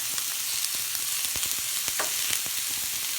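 Peppers, zucchini, fresh thyme and garlic sauté in a pan for a butternut squash hash: a continuous loud sizzle broken by frequent clicks and scrapes of stirring, with no talking.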